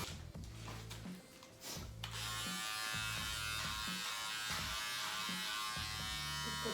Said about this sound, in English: Just cut my brother's hair.